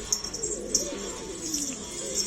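A black hardün pigeon coos in a series of low, rolling calls, close and fairly clear, with no talking over them.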